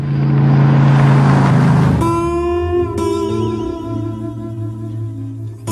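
A Ford Mustang V8 engine rumbles loudly, then revs up in sharp, rising bursts, its tone climbing and falling as it accelerates close by.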